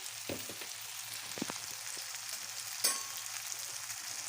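Chopped tomatoes frying in a pan for Chinese khichdi, a steady close sizzle with a few soft clicks of a stirring utensil and one sharper clatter near the end, no voices.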